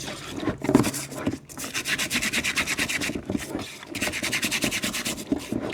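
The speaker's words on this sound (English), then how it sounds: "I'm just using a little scrubby brush, scrub down the surfaces that ride on those clutch surfaces." A small scrubby brush scrubs the wet clutch surfaces of a RZR XP 1000, producing steady rhythmic rasping strokes up close, with a couple of brief pauses between bursts.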